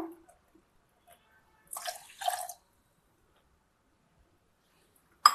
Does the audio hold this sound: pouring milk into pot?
yes